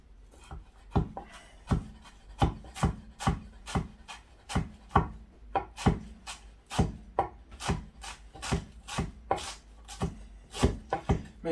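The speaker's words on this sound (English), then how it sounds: "Now I'm just going to roughly chop some" A knife roughly chops fresh coriander on a board, a steady run of about two dozen sharp, close knocks at an even, brisk rhythm with no talk over them.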